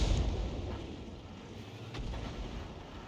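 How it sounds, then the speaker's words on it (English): Artillery rounds land in World of Tanks, heard as a deep, rumbling boom at the start that fades into a low roar, followed by a fainter second impact, with no speech. "when you've got Arty rounds still coming down on you"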